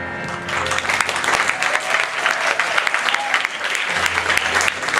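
Audience applause for the judges at a singing event, a loud, steady burst of clapping from a crowd that carries on for several seconds, with some voices mixed in.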